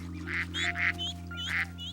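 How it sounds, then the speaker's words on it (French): Ducks quack in short nasal bursts, several calls in a loose run over a steady low hum, fairly close and moderately loud. "La canne, la maman canard, veut s'assurer que ses canetons ne s'éloignent pas trop."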